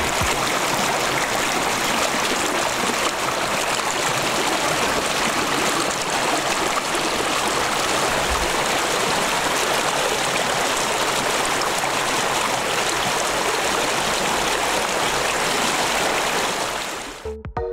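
Spring water flows steadily over the ground as a small stream, a constant close rushing and trickling wash with no voices, cutting off at the end.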